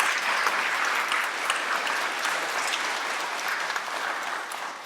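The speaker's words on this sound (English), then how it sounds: "Let's give them a round of applause." An indoor audience gives sustained applause for a college's board of trustees, a dense wash of clapping that stays loud throughout and then eases slightly toward the end, with no talk over it.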